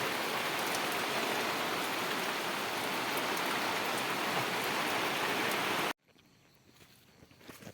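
Sudden heavy rain drums steadily on a tarpaulin at a farm, a dense, loud, continuous patter that cuts off abruptly near the end, leaving quiet outdoor ambience.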